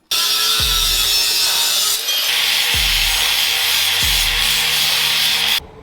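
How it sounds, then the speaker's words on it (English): Angle grinder cutting and smoothing a metal gauge mount for a rat rod in a workshop, a loud continuous abrasive whine running almost the whole time with brief dips as the tool is repositioned and low thumps at each new contact. "My grinder, yeah."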